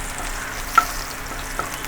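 Garlic fries in hot oil in a pan for a spicy tuna dish, giving a steady close sizzle with a couple of small stirring knocks.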